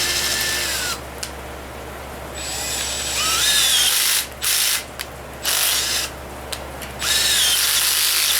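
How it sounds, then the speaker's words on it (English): A ratchet works in bursts during an engine build's head bolt prep, with bright clicking spins stopping and starting over a low steady hum. "sitting here running the ratchet"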